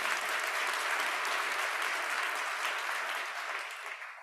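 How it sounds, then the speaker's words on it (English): A conference audience claps steadily in agreement, a dense, loud wash of applause that holds for several seconds and then tapers slightly at the end. "Clap if you agree."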